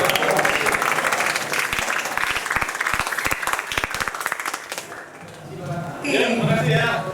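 An audience claps at a school career day session, with dense applause that thins into scattered claps before fading, followed by a voice speaking.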